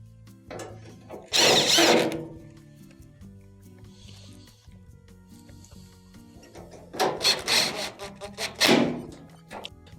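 A power drill drives screws into a Maytag dryer panel during a blower wheel repair, giving two loud, close bursts of whirring separated by a few seconds of quiet handling noise.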